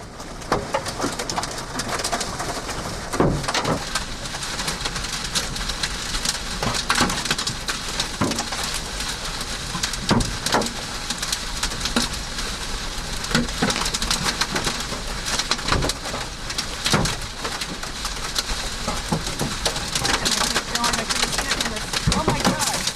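Huge hail pounds a car after a tornado near South Plains, Texas: a relentless dense clatter of impacts on the car body, heard loudly from inside, with frequent harder cracks breaking through the steady roar.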